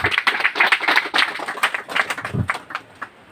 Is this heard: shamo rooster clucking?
no